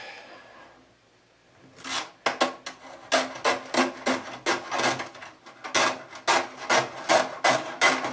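Material cut off while making a dove basket, a quiet pause followed by a close run of quick rhythmic rasping cuts, repeated strokes in short bursts.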